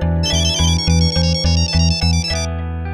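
A mobile phone ringtone plays loud and close, a bright electronic melody pulsing in steady repeated beats for about three seconds with no voices over it.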